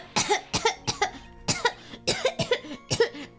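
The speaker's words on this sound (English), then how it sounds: "could that stupid cough possibly sound any phonier?" A rapid series of about ten short, forced coughs from a character in the Phoenix Wright courtroom video game, fake-sounding and close, coming in uneven clusters with no other voices.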